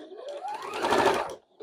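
A sewing machine stitching sashing onto a small quilt block, a close, steady whirring run with a rising motor tone that stops briefly and then starts again.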